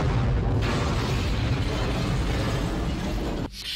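A film fireball of naphthalene and explosive powder roars up an elevator shaft in Die Hard, a loud sustained rushing boom that holds for about three seconds and then cuts off sharply.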